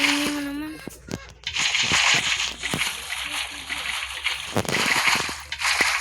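Water pours and splashes into a container in uneven sloshing bursts, close by, with a voice talking at the start.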